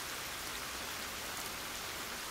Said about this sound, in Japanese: まして大雨の夜であるから、 水の音と雨の音のほかには物の音も聞こえず